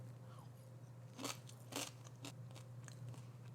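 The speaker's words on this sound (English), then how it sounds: "Delightful, lovely crunch." Crispy roasted lentils being chewed close up: a few sharp crunches standing out against a steady low hum, with softer chewing in between and no talking.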